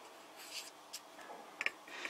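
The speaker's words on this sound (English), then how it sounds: "with my dip pen I'm going to write." Faint scratchy strokes of a dip pen loaded with shimmer ink on paper, a few soft irregular scrapes in a quiet room.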